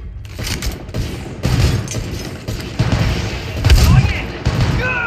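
Gunfire from Apex Legends Mobile played on a phone, with loud irregular bursts and heavy booms among clicky weapon mechanisms, plus short spoken remarks in between.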